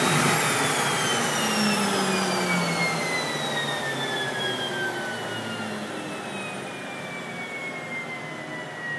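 A PT6 turboprop engine shuts down after its lever is pulled fully back, its loud, close roar easing while a high whine slides steadily downward as it spools down. No voices are heard.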